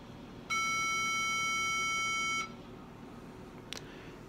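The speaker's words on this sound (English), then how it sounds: "It will beep." A Mac Pro 1,1 startup beep sounds steadily for about two seconds, loud and clear over quiet room hum, followed by a brief click.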